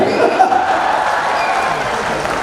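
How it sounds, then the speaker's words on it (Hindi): An audience at a live comedy show claps in a dense, steady wash of applause that holds evenly through the short stretch, with faint murmurs mixed in. "तालियां जोरदार बजा सकते हो आप"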